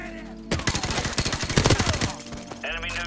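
Rapid automatic gunfire in a Call of Duty World at War game, a dense burst of close shots lasting about two seconds with in-game voices before and after.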